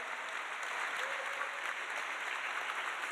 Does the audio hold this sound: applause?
yes